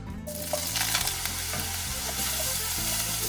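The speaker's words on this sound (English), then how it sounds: "To our pan, we will add some olive oil, and we'll start off with our eggplants. Quick browning on them." Eggplants browning in olive oil in a pan give a steady, close, loud frying sizzle with a few stirring clinks, heard alone without talk.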